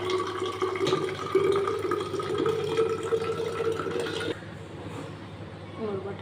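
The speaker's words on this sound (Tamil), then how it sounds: "இன்னும் கொஞ்சம் தண்ணி பிடிச்சி போட்டுருவேன்." Water runs steadily from a tap with a rushing, splashing sound, then cuts off abruptly near the end, leaving a quieter room.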